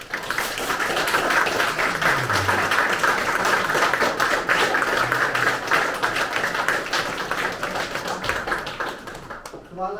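An audience gives sustained applause after a Slovenian Armed Forces Orchestra chamber ensemble with clarinets, bass clarinet and bass guitar plays in a salon, with dense, steady clapping filling the room that fades at the end while a voice speaks underneath.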